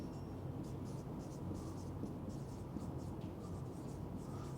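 Marker or chalk writing on a board during a physics lesson, a series of faint scratchy strokes in short bursts over a quiet room hiss.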